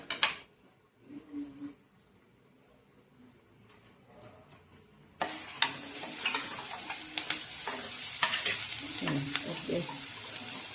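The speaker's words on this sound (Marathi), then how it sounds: "कांदा परतून होत आलाय" Onion sautéing in a pan for a home-cooked vegetable dish: quiet clinks and faint stirring at first, then from midway a steady, close sizzle with spatula scrapes and stirring knocks.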